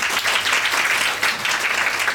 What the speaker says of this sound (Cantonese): 俾啲掌聲啊！